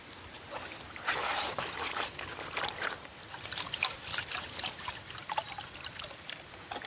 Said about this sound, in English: Pouring organics off.